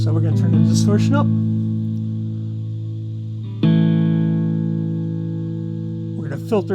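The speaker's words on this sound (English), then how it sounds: "So we're going to turn the distortion up." Electric guitar played through a Pro Co Rat distortion pedal with the distortion turned up, sustained gritty chords ringing alone, then a fresh loud strum midway that decays, with brief picking at the end.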